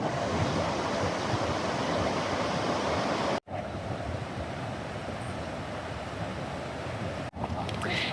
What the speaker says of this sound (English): This is the McLeod River that I'm crossing.